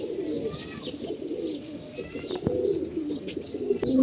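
Domestic pigeons cooing in a loft, several birds giving repeated low throaty coos with a few brief chirps, close and steady throughout.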